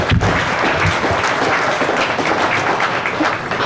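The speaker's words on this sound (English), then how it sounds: "let's give these guys a hand" A fair crowd applauds its county fair commissioners with dense, steady clapping throughout, loud and sustained with no break.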